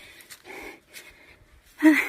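A person pants and gasps for breath after a long walk to a distant water source in a rural province, with short, breathy, close exhalations in uneven bursts and a louder heave at the end.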